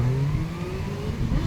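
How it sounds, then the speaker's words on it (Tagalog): A Kawasaki ZX-10R motorcycle with its stock pipe and muffler runs nearby, a steady mid-pitched engine drone with slight pitch rises as it rolls along. "Stock pa ang kanyang pipe o muffler. Ganda ng tunog no."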